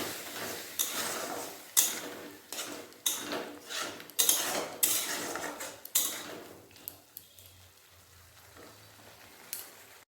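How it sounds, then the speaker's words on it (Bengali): Masala sautéed in a pan for a snail curry with ridge gourd and potato, a spoon scraping and clanking against the pan in irregular knocks over a soft frying hiss that fades as stirring stops. "মশলা ভালোভাবে কষিয়ে নেব"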